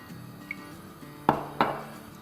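A cooking pan is set down on a stove in a home kitchen, giving two sharp metallic clanks close by, about a third of a second apart, with a faint earlier tap in a quiet room.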